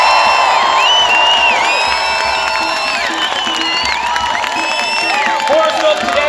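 A protest crowd in Dublin city centre cheers loudly at a housing and homelessness rally, with sustained whoops, whistles and shouts layered together and a few voices standing out above the roar.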